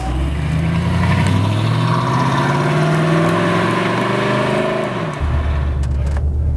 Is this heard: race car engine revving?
yes